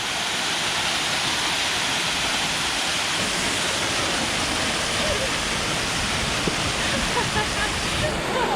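Waterfalls at Ricketts Glen State Park rush with a steady, dense roar of falling water, close and constant for the whole stretch.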